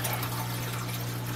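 Water pours steadily into an artificial jellyfish aquarium tank, a continuous close gushing fill over a low steady hum with no talk.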